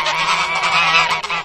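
A goose gives loud, close, nasal honking calls in a continuous run of a few raspy blasts, heard alone without speech.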